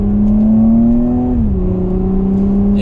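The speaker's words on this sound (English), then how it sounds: "Let's go ahead and jump up to Sport Plus now, and we'll downshift just a little bit. We'll go down to second gear here." A 2020 Porsche Cayenne Coupe in Sport Plus mode, downshifted to second gear, accelerates with a loud, steady engine drone that climbs in pitch, dips briefly midway at a gear change, then pulls on without any talk.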